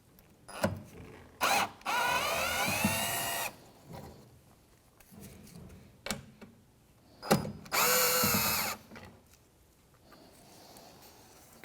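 A power drill or driver spins out screws on the left rear tail light of a 2007-2013 Mitsubishi Outlander, two sustained whirring bursts with short clicks and taps between them, close up.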